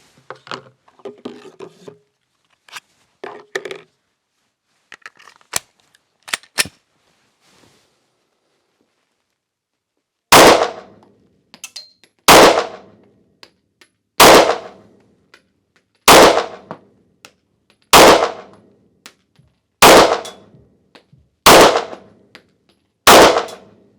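A Glock 43X pistol fires eight sharp, loud shots spaced about two seconds apart, each with a short ringing tail, after a stretch of quieter clicks and handling noises.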